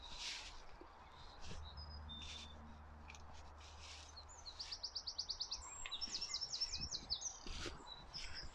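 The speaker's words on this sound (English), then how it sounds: "You can hear the birds singing in the background." Birds singing outdoors in quiet St Joseph's Cemetery, faint and distant, with scattered chirps early on, then quick rhythmic trilled phrases repeating through the second half over soft background hiss.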